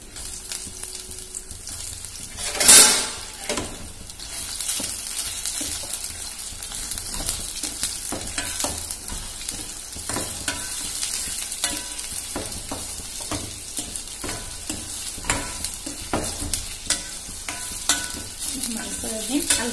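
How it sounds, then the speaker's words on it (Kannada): Soya chunks fry and get stirred in a pan for a Punjabi-style gravy, with a steady sizzle and repeated scraping stirs throughout. One sharp clatter comes near the start. "ಸೋಯಾಬೀನ್ ಕು ಫ್ರೈ ಕರ್ಲಿ,"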